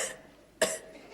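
A single sharp cough bursts out near the middle, close and brief, with quiet room tone around it and no talk, on a 1975 children's television comedy show.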